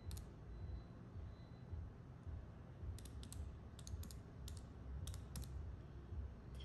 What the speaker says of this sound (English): I'm finally typing up